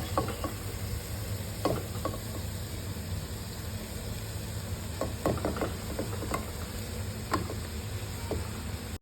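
Cooked rice goes into a pan of mushroom fried rice and is stirred, giving a soft, steady sizzle with scattered light knocks and scrapes of a spoon against the pan, close and without talk.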